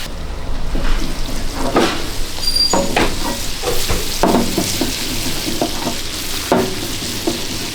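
Onions sauté with liver in a frying pan in a snack-bar kitchen. There is a loud, busy sizzle with repeated scraping and clattering stir strokes against the pan.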